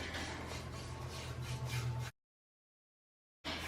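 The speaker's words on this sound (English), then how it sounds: "I'm just gently filing, making sure that all of the dry stuff is" Dry skin on bare feet being gently filed during an at-home pedicure, a steady soft rasping rub that runs close and continuous for about two seconds, then drops to silence before resuming briefly.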